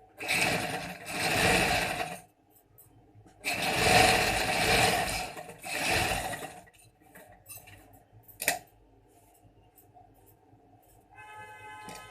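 A sewing machine stitches along the inner fold of a kurta placket, running in two long, steady buzzing bursts with a brief pause between, then falling quiet apart from a few light clicks and taps.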